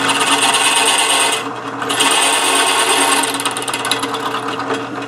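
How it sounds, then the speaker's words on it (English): A power drill whines steadily through metal while drilling holes for a homemade hand engraving machine handpiece, loud and close, with a brief dip in pitch partway before it resumes. "let's drill the other two holes"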